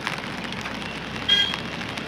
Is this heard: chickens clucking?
no